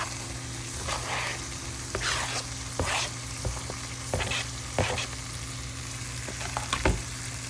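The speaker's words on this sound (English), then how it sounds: "we're gonna add in all that shredded zucchini" Shredded zucchini sizzles in tomato sauce in a pan, a soft steady frying hiss broken by scattered stirring scrapes and clicks, fairly quiet and with no voices.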